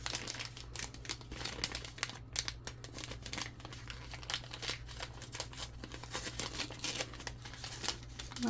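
A handmade package is torn open close up, its paper crinkling, rustling and ripping in irregular bursts with no one speaking.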